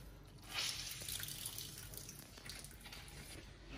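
Juice from one orange poured over fish being marinated, a soft, continuous liquid splashing and trickling, close and faint, with no speech.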